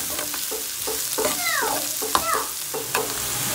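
Onion, garlic and scallion fry in a pan with a close, steady sizzle, while a utensil scrapes and stirs through them in short strokes and a few higher squeaks come through.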